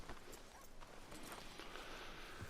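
A horse walks in Red Dead Redemption 2, its hooves clip-clopping in a steady rhythm, faint and low in level, with no voices.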